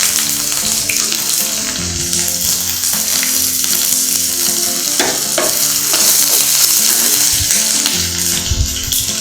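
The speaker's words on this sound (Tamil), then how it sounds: "இப்போ வெங்காயம் நான் போட்டுக்கிறேன்." Onions hiss and sizzle steadily in hot oil in a pan while vegetable fried rice is being made, with a loud, continuous frying crackle and occasional stirring scrapes close by.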